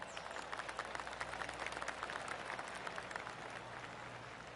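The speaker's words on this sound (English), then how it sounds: "I can hear the golf claps around the course" Scattered golf claps from a gallery crowd around the course in the PGA 2K25 video game, a steady patter of many soft hand claps at moderate distance, with no talking.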